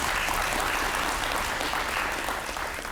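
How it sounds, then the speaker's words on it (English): Steady, dense applause from an audience at a chamber of commerce legislative update, thanking the legislators after a morning panel discussion; the clapping stays loud and even for the full stretch with no voices on top. "Let's give them a round of applause."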